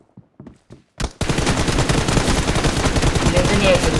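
Rapid automatic gunfire from PUBG Mobile erupts after a few soft footsteps, a loud, dense burst of shots that continues without a break to the end.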